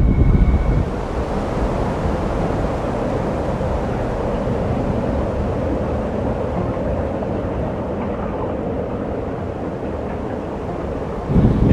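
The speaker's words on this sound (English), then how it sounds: "It's another thing if the wind is blowing 20 or 25 miles an hour." Strong wind roars steadily in arctic cold of minus five degrees Fahrenheit, a loud, continuous rushing buffet that carries through almost the whole stretch without any voices.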